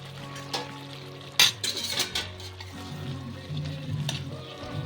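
Fried cauliflower and whole green chillies are stirred in a sizzling pan, a spatula scraping and clinking over steady frying, with a sharp knock early on.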